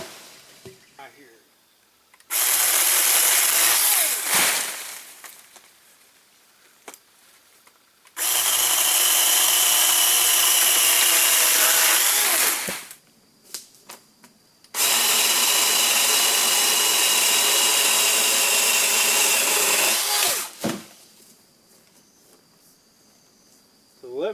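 Poulan Pro 40V cordless pole saw cutting branches around a house, its high motor whine coming in three long sustained bursts separated by short quiet pauses.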